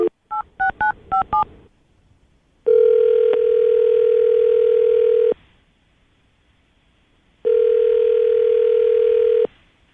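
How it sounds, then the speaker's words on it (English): Placing a phone call: a quick run of touch-tone dialing beeps, then two long loud ringback tones with silent gaps, clear and close with no talk over them. "Any closing thoughts before we make the phone call?"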